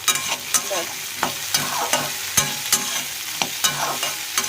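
Sliced bitter gourd fries in a pan at low heat with a steady close sizzle, while a utensil scrapes and stirs it in sharp, regular strokes about every half second.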